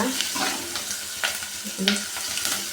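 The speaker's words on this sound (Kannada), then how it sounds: "ಈರುಳ್ಳಿ ಮತ್ತು ಕರ್ಬೇವಿನ ಸೊಪ್ಪು ಚೆನ್ನಾಗಿ ಫ್ರೈ ಮಾಡ್ಕೊಳ್ಳೋಣ" Sliced onions and curry leaves fry in hot oil in a pan, giving a steady close sizzle broken by a few sharp scraping stirs of a spoon, with no talking.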